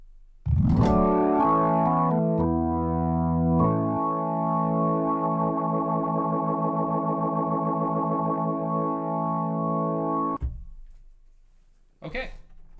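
Guitar played through a rotary pedal set to a Leslie speaker effect: a few struck notes, then a long sustained chord swirling with steady warbling modulation before cutting off, followed by a brief noise near the end.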